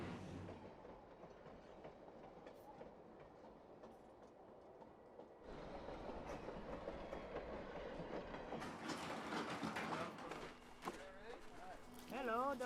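The Flåmsbanen train rolls through Norway, a low, faint rumble of rail travel heard from onboard that grows steadier and louder midway, with brief squeals near the end and people talking quietly.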